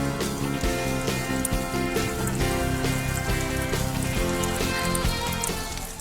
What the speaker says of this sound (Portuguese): de preferência que seja assim, ó, uma chuva bem leve